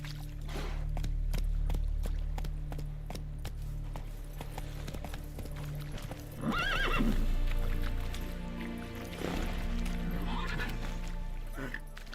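A horse in The Witcher 3 trots with rhythmic clip-clop hoofbeats, and two loud whinnies rise mid-clip over a low steady background hum.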